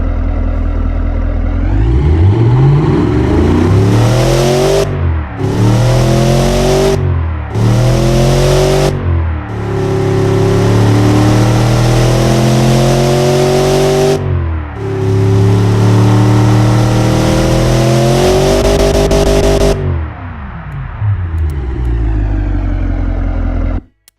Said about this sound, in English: All of this will make the engine to produce more power, more torque, and to sound much louder.